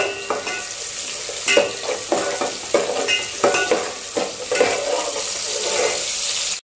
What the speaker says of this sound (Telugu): ఇవైతే ఇక్కడ ఫ్రై అవుతున్నాయి కదా